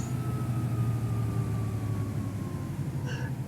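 A simulated Volvo B7TL bus in OMSI 2 runs with a continuous low diesel drone, a faint tonal whine and a brief chime near the end, with no talk.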